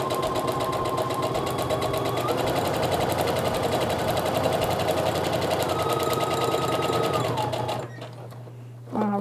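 Sewing machine stitching a paper-pieced quilt pattern with a short stitch length, running steadily and close for several seconds before briefly stopping and starting again.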